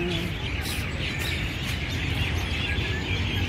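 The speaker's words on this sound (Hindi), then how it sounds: "ये पक्षियों की आवाज सुन रहे हो" Birds chirp and tweet steadily throughout an outdoor evening walk, their calls overlapping in a dense, continuous chorus over a constant background hiss.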